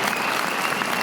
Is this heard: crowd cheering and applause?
yes